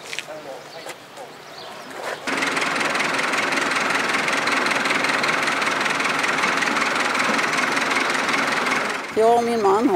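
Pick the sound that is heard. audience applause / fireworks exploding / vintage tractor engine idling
vintage tractor engine idling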